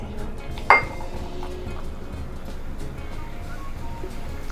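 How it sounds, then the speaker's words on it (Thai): A glass bottle of Sarsi soda opens with a single sharp clink near the start, then a steady low fizz and background hiss continue. "เปิดขวดซาสีทุกครั้งเลยนะ"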